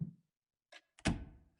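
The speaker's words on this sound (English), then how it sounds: "the panda fell down." In the video game Paranoiac Remake, a stuffed panda falls down, heard as a soft muffled thunk landing after a brief rustle, quiet and close with near silence around it.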